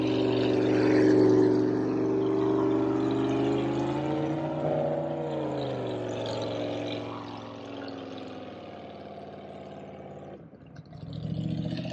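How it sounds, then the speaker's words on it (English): A loud motorboat passes on the water, its droning engine steady and close, slowly shifting in pitch before fading briefly near the end. "here comes one of the really loud boats"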